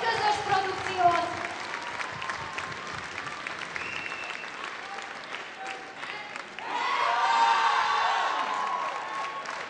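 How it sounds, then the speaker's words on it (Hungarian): At a singing contest final, the crowd applauds and cheers for the finalists, giving a steady clapping roar with whoops, while music and voices mix in and then the noise swells again near the end. "Nagy tapsot neki!"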